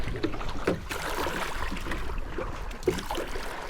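A kayak paddled upstream on a river, with soft rhythmic paddle strokes dipping and splashing close by over flowing water and light wind noise.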